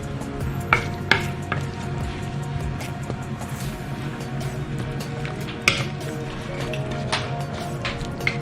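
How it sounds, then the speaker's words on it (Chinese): Curry chicken thighs with black-eyed peas are stirred in a pan, with scraping and clinking of a utensil over a low sizzle, marked by a few sharp knocks. "我们把它搅拌均匀。"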